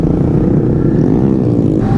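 A Honda Grom motorcycle with its stock exhaust buzzes along the road, engine note loud and close with a slight rising and falling pitch, no voices over it.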